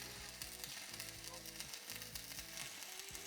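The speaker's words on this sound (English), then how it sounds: "What I'm literally doing here is just running a beaded weld round the inside of the outer race." Arc welder running a bead weld around the inside of the outer race of a Ford Focus wheel bearing, giving a steady close crackling sizzle with rapid irregular pops throughout.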